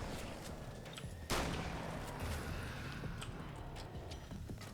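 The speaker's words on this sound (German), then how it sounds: "Das war wohl eine Blendgranate" A flashbang grenade goes off in the Alan Wake's American Nightmare game, a single sharp burst that stands out from a dense, noisy in-game soundscape and leaves a lingering rumble behind it.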